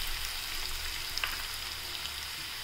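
Green chilies sizzle in a pan over steady broadband frying hiss, added to cooked onions while making paneer matar bhurji, with a faint stir or clink partway through and no talking.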